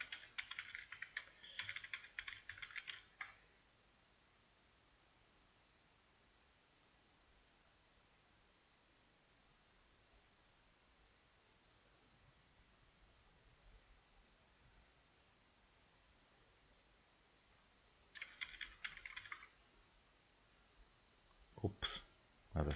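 Quick bursts of computer keyboard typing, close and crisp, come at the start and again near the end, with a long quiet stretch of faint room hiss between them.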